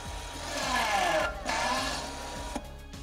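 A Land Rover L460 electronic parking brake motor whirs steadily as it retracts in service mode, a continuous mechanical hum with a slight rise and fall in pitch, close and moderately loud.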